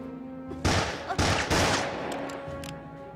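Gunfire rings out in a tunnel shootout from a TV drama: several loud, echoing shots in quick bursts over about three seconds, with no talking.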